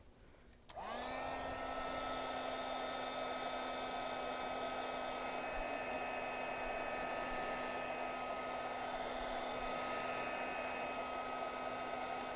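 A hair dryer starts abruptly and then runs steadily, drying ink on an art piece. It holds a constant whirring hum with a high whine throughout, close and fairly loud, with no talking.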